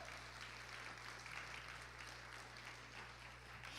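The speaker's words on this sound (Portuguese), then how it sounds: "Você pode dar uma salva de palmas ao Senhor." A church congregation applauds for the Lord, a steady, fairly distant wash of clapping over a low constant hum, with no voices.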